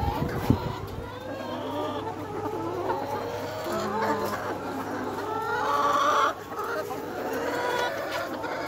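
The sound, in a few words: layer chickens clucking on a poultry farm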